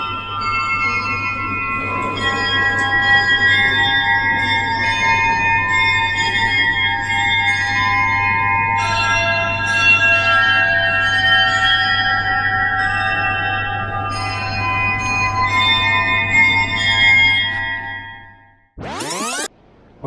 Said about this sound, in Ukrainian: А це звук годинника, який я знімав перед тим